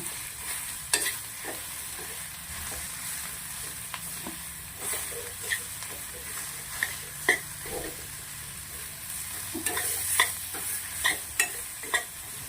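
Masala roasting in a pan while being stirred, giving a soft continuous sizzle broken by repeated scraping strokes of a spoon at an irregular rhythm, close and fairly quiet, with no talk.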